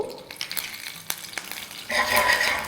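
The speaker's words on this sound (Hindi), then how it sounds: "अब घी में डाल देंगे ये कड़ी पत्ते जो बचा के रखे थे वो" Curry leaves drop into preheated ghee in a pan for a dal tadka and break into a loud, steady sizzle after a few soft stirring clinks and scrapes.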